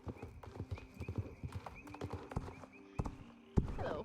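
Hooves clip-clopping at a steady walk in the horse-riding video game Star Stable, close and crisp, with a brief whinny-like burst near the end.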